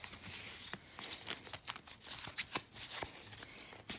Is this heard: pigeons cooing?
no